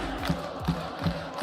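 Football video game crowd at a cup semi-final between Southend United and Birmingham, a rolling roar with rhythmic chant-like swells about every third of a second, moderately distant and steady.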